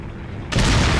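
A sudden loud boom bursts in halfway through after a quiet stretch, a game explosion from Resident Evil 4 HD set in a mine, its broad roar sustained to the end with no talking.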